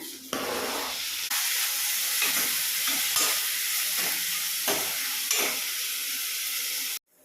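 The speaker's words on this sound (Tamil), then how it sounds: "வெங்காயம் நல்லா பொன்னிறமாக வதங்கிடுச்சு நான் இப்போ வந்து தக்காளி ஆட் பண்ணுறேன்" Onions and tomatoes sizzle and fry in a pan for a thick kulambu, a steady bright hiss with soft scraping strokes of stirring repeating every second or so, close and continuous, then cutting off at the end.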